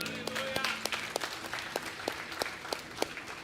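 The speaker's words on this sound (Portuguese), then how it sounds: "Você pode aplaudir ao Senhor?" A church congregation applauds during a sermon, a fairly quiet, uneven patter of clapping with a few sharper individual claps standing out, heard from some distance.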